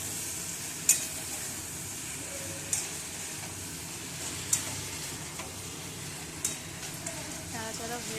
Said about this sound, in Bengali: দেখো এদিকে প্রায় ভাজা ভাজা হয়েই গেছে।